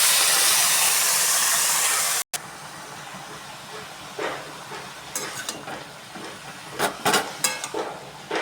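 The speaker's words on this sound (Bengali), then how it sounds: "এবার কপিটা দিয়ে দেবো" Cauliflower tipped into a hot, cracked wok hisses with a loud, steady sizzle that suddenly breaks off, then returns as a quieter crackle with scattered sharp pops and spits.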